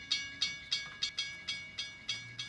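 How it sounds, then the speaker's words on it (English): Steam locomotive in Back to the Future Part III, a series of about eight regular chuffing bursts at a steady rhythm, fairly close and moderately loud, with a faint low tone beneath and no talking. "He brought a whole train."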